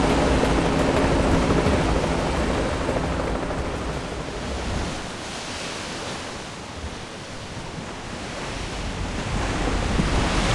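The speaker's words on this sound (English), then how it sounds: "The water's rising quickly." Rising flood water and waves in the video game Reverse: 1999 make a loud, continuous roaring rush that dips slightly midway and then swells again, with no voices.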